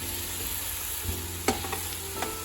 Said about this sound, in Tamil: நான் வந்து இந்த பச்சை மிளகாய் கொஞ்சம் வெட்டாமல் நீட்டாக போடுறேன்